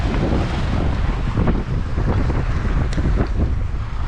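Strong wind buffets the microphone at Steep Point on the coast of Dirk Hartog Island, Western Australia, as a loud, continuous rumbling roar that hides everything else; no voice is heard.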